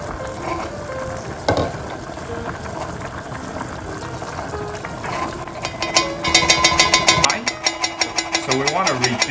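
Braised short rib sauce reducing in a pan, a continuous bubbling sizzle with a few knocks of a utensil, ending in a run of rapid clattering taps close by, no voices.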